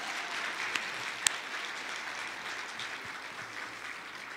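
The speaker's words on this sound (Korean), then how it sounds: "하나님께 영광의 박수를 드리겠습니다." A crowd at a church service claps steadily in a continuous wash of applause, fairly even in loudness throughout, with no voices over it.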